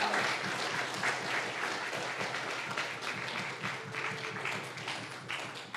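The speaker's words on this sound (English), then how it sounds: "Can we get one last round of applause for Kapailoa?" Dense, sustained audience applause fills a symposium hall, many hands clapping steadily and loudly throughout without letting up.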